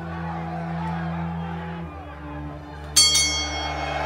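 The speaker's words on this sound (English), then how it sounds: "And there's the bell." A boxing ring bell strikes once with a bright metallic clang in a radio drama fight scene, cutting in over a steady low crowd hubbub and ringing briefly as it fades.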